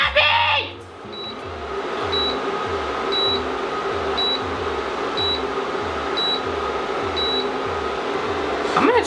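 Repeated short electronic beeps, evenly spaced about once a second, ring out over a steady mechanical hum from an appliance running nearby.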